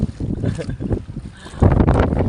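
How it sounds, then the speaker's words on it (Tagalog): Sea waves slosh and wash against a small fishing boat at sea, with steady wind noise over the water and a louder surge of water near the end. "Yun yung alon ho."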